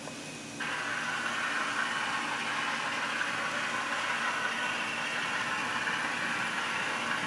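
A Kato N gauge model diesel locomotive's DCC sound switches on after a brief quiet moment, a steady engine rumble that keeps droning evenly at a modest, slightly hissy level.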